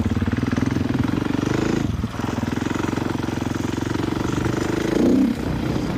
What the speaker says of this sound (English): Motor honestly doesn't sound bad at all.